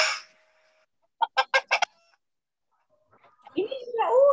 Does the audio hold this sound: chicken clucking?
yes